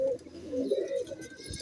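Pigeons of a pure Sialkoti breed cooing in a loft, a soft low rolling coo repeated a few times, close and fairly quiet with faint chirps above.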